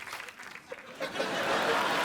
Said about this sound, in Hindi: तो एक बार जोरदार तालियां हो जाएं पूरी मिर्जा की कास्ट के लिए।